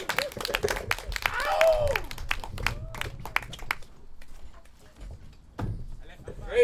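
Crowd applauding at the close of a comedy open mic night, scattered claps and some cheering from a small audience, a host talking over them before the clapping thins out.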